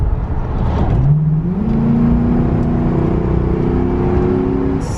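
A 2006 Ford Crown Victoria P71 police-package sedan accelerates from 40 to 60 mph, its engine note climbing steadily in pitch under a heavy, constant road and wind rumble, heard from inside the car.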